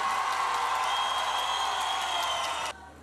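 Concert audience in Eskişehir applauding and cheering, a dense steady wash of clapping that cuts off abruptly near the end.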